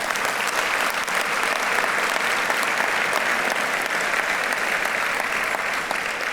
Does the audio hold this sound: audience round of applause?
yes